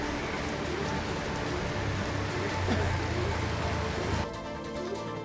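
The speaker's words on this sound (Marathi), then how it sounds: "नवी मुंबई परिसरामध्ये सकाळपासूनच रिमझिम पावसाने हजेरी लावलेली आहे" Steady drizzle falls in Navi Mumbai, a continuous patter and hiss, with a low rumble underneath before the sound thins out near the end.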